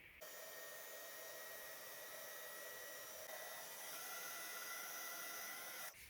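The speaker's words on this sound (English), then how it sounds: "I'm going to put that all over my snowflakes. So I'm going to heat those up." A heat tool blows steadily, melting bright white embossing powder over stencilled snowflakes on a Christmas card, a continuous close, loud airy roar running for about six seconds before cutting off at the end.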